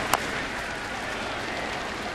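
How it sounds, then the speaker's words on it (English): A baseball stadium crowd with the bases loaded roars in a steady, broad wash of cheering and applause. A sharp whistle or shout pokes through at the start. "Let's listen to this crowd with the bases loaded come alive."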